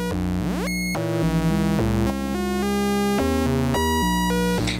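Two sequenced synthesizer oscillators mixed together in mono, stepping through a busy run of buzzy, harmonically rich notes with pitch sweeps and abrupt changes, loud and continuous throughout with no talking.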